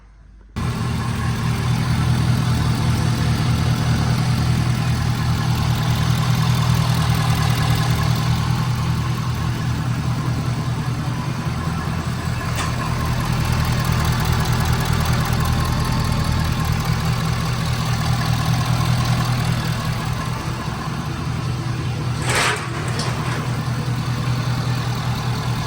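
A 6.7 Powerstroke diesel pickup engine, just fitted with a new upper radiator hose, fires up abruptly and settles into a steady, loud, low rumbling idle that runs on unchanged, with no voices.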